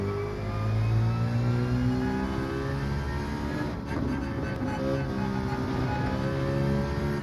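Genesis G70 Gr.4 race car in Gran Turismo 7 at the Nürburgring GP, its engine droning steadily and climbing through the revs with a brief shift dip midway, loud and continuous throughout.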